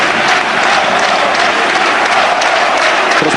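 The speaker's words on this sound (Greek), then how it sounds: "Ο κόσμος σηκώνεται και χειροκροτεί τους ποδοσφαιριστές του Νετίμ Ντούντιτς." A stadium crowd at a UEFA Cup football match stands and applauds the players, a dense, loud and unbroken wash of clapping and cheering.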